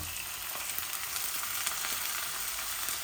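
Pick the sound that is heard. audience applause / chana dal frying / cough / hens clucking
chana dal frying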